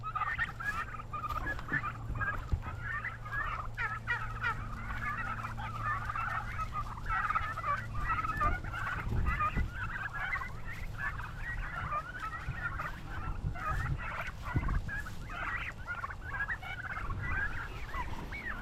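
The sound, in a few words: turkeys gobbling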